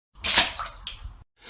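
Water splashing out of a glass onto flames, a brief wet splash that swells quickly and trails off over about a second, close and moderately loud, followed by silence.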